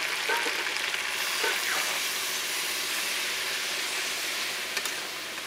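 Chicken for coriander chicken sizzles hard in a pan as spiced water is poured in, giving a loud, steady hiss and crackle close by that runs without a break and eases slightly near the end, with no talking.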